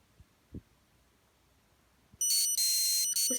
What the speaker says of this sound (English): this was the only iPod that had these ringtones